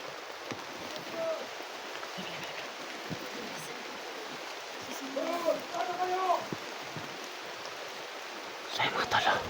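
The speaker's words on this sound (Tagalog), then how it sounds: "Lakas ng ulan." Heavy rain falls steadily as a constant hiss of water in the background, while people talk intermittently over it and a dog barks faintly once or twice.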